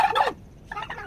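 A turkey gobbles in two bursts, a loud rattling call followed by a shorter, fainter one after a brief pause, recorded close by at a village poultry farm.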